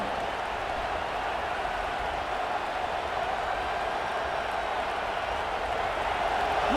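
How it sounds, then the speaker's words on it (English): A dense, steady stadium crowd roar fills a simulated Navy at Notre Dame college football game in EA College Football 26, a constant wash of noise that never swells or drops, with faint applause and no clear voices. "Listen to the crowd energy here in the early going."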